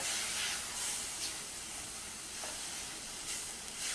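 A soft, steady hiss of steam escaping from a covered pot of radish pods cooking without water, with faint brief bursts now and then; no voices.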